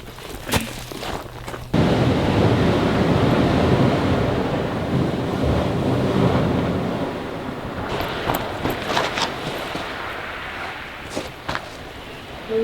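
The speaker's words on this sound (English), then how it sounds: "The waves sound like there's a tsunami coming up to where I'm sleeping" Pacific surf pounds the Southern California coast in a steady, loud roar, with strong wind buffeting the microphone and a few sharper bursts near the end; no one speaks.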